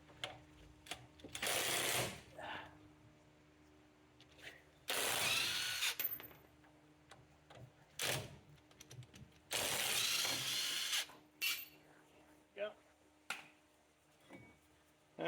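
Bursts of a power tool with an 18 mm socket spin out a brake caliper bolt on a 2007-2013 Chevy Silverado, several loud whirring runs separated by quiet gaps and small clicks of handling.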